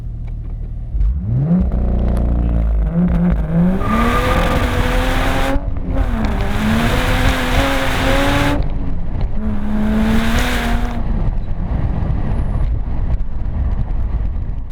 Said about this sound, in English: Here is our best effort of a 0 to 100 using launch control, available in only the manual transmission from factory.